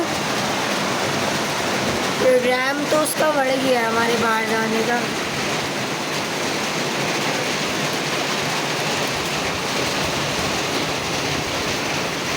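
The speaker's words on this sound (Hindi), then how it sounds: "यहाँ पे बहुत तेज़ बारिश हो रही है" Heavy rain pours in a dense, steady hiss throughout in Mansehra, with someone briefly speaking over it near the start.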